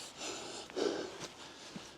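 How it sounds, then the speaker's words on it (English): A person panting and breathing heavily while walking up a small hill outdoors in bitterly cold, driving wind, a few close, breathy snorting exhales over a soft windy hiss with no speech. "You might hear me panting as well"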